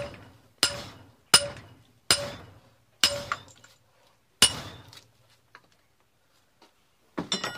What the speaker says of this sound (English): just put the hammer back in and keep whacking